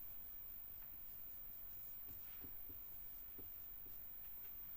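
Pen or pencil writing a Hindi sentence on paper during a grammar lesson, a faint continuous scratching with light strokes, quiet and close, no talk.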